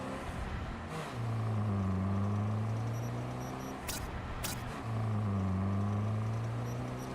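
A car passes in Cyberpunk 2077, its engine tone rising and falling as it sweeps by, then a second vehicle drones past later, with a couple of sharp clicks in between and no talking.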